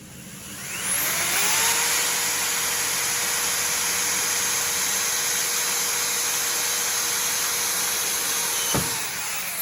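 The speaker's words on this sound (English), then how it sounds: "And on these, I'm going to drill just inside." A power drill spins up and runs in one long, steady, close whine for several seconds before stopping with a click.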